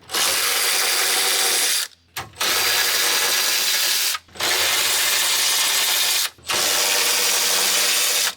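A power tool driving out 10mm bolts along the top of the grille on a 2019 Silverado LTD, giving a loud, close, continuous whirring ratchet buzz in three long runs separated by brief pauses.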